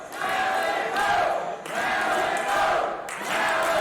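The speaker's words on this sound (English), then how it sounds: "You hear the crowd here at Fayetteville Town Center chanting the name of Malico" A wrestling crowd at Fayetteville Town Center chants a wrestler's name in loud, rhythmic bursts of massed voices, each chant separated by a brief dip, filling the hall before a match.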